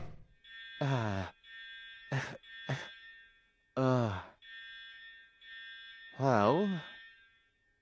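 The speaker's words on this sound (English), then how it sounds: "if the fire alarms weren't going off before, they certainly are now" Fire alarms going off in a factory with a grinder on fire, a steady high electronic buzzing tone sounding continuously under and between several bursts of a person talking.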